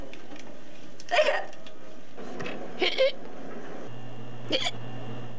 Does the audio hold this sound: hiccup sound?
yes